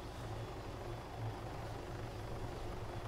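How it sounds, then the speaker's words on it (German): A helicopter approaches in the Arma 3 video game, a steady low rotor drone with engine hum that holds at a moderate level throughout. "da kommt noch ein Heli an"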